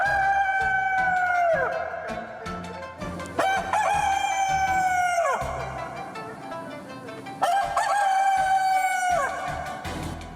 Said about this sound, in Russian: когда вдруг услыхало крик петуха